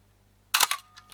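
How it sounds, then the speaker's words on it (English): Mamiya 645 Pro medium-format camera shutter, under test for a possible dirty magnet or solenoid fault, fires with a sharp, close mechanical snap, then a brief second clack and a couple of faint ticks, with no talking. "Then we can just advance the camera, fire the shutter"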